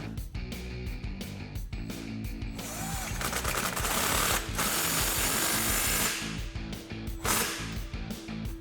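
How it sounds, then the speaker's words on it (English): Ratchet with a 13 mm socket tightening the exhaust ball clamp on a Jeep Gladiator JT 3.6L V6, up close: quick clicking pawl bursts and metallic rattling over a steady mechanical hum, busiest in the middle stretch. "now we're gonna tighten up our ball clamp here. Again, this is a 13 millimeter"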